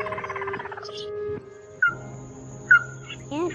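A recording of migratory bird calls, used as a lure for trapping, plays sharp chirps, whistled notes and trilling phrases in separate bursts over a faint background hum.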